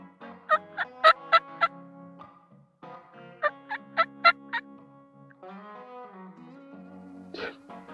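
A wild turkey gobbler in woodland near a ravine sounds off with two loud, rattling gobbles a few seconds apart, each a fast burst of warbling notes, followed by a brief higher call, with quiet between.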